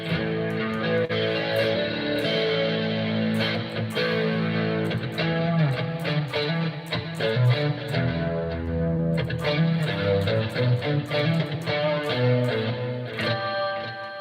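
Electric guitar played through a Blues Driver overdrive for a classic rock tone, with steady, sustained distorted chords and picked notes ringing continuously, up close and alone.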